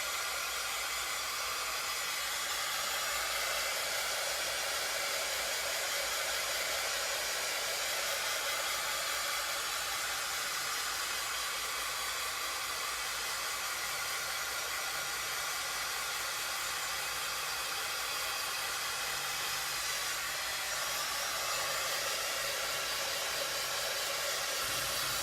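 A hair dryer blows steadily on a Dollar Tree Eek and Boo craft piece, a loud, even hiss-like roar that runs without pause for the whole stretch and drowns out everything else.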